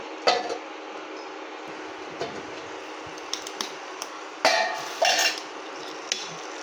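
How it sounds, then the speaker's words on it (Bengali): A lid goes onto a pan of rui fish korma cooking over low heat, with several light metallic clinks and taps and a pair of louder clattering knocks over a steady background hiss. "এটা হালকা আঁচে একটু ঢাকা দিয়ে দেবো।"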